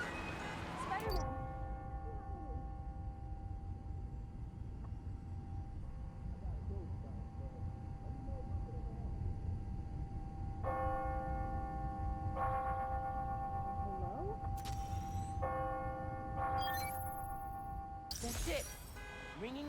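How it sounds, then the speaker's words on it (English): Church bells ring out on the hour in a city from the Spider-Man: Miles Morales game, several loud struck tones arriving in the back half over steady ambient rumble, after a brief spoken word. "That's it. Ringing on the hour."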